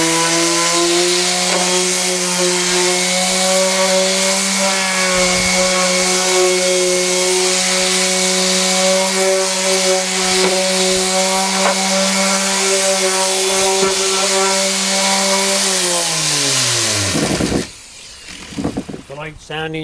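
Power sander running steadily with a strong, even droning hum and gritty hiss while lightly sanding away leftover glue, then spinning down and stopping near the end, followed by brief handling noise.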